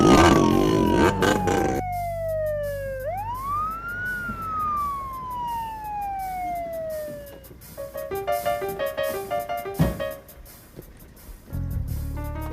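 A police or ambulance siren in an Indonesian comedy film wails in long rising and falling sweeps, loud and close, then gives way to a burst of shorter tones, clattering movement and a brief loud bang near the end.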